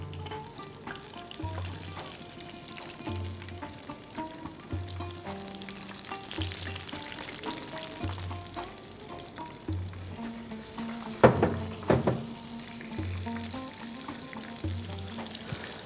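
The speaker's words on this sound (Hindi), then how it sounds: "प्रॉन्स को डिप करके उसके बाद हमने इसको फ्राई कर दिया है।" Prawns dipped in egg and flour batter frying in hot oil give a constant close sizzle, with soft scrapes and clinks of stirring throughout and no voices.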